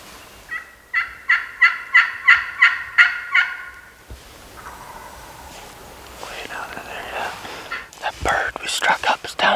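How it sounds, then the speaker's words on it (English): A wild turkey gobbles in a fast run of about eight rattling calls, fairly close in a Tennessee woods during a hunt, followed by quiet rustling and faint whispered talk. "He just gobbled twice on his own now."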